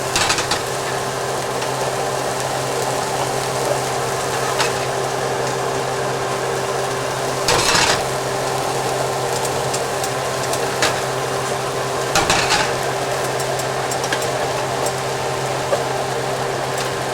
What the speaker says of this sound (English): And what we're gonna do is we're just gonna add the rice on here.